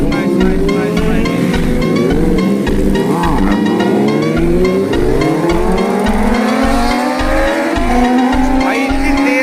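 Superbikes on a group road ride roar loudly at close range, engines revving and rising in pitch as they accelerate past in a continuous, powerful drone.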